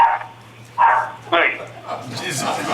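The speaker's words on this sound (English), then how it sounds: "trying to calm my dog down." A dog barks at home during a city commission meeting call, giving several sharp, close barks and yips in uneven bursts, with a voice speaking briefly over the top.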